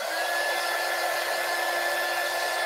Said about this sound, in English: I'm gonna make some noise now with my dryer